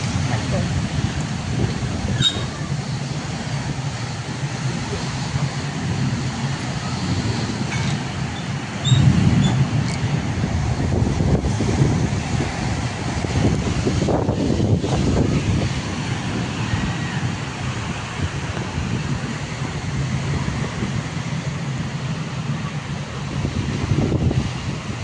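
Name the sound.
strong wind blowing during rain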